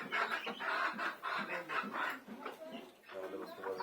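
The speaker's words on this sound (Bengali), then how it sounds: "এই মুরগিটা এখন খাচ্ছে।" Chickens on a poultry farm cluck and call in short repeated bursts throughout, fairly close, with a brief dip before the calls resume.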